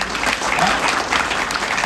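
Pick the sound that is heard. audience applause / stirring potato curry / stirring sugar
audience applause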